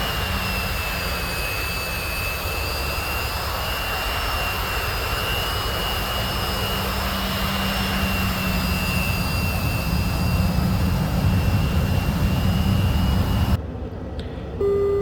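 Jet aircraft in DCS World, its canopy closing and the engine whining steadily at a road base, a loud continuous roar with high tonal whine that swells slightly before cutting down near the end.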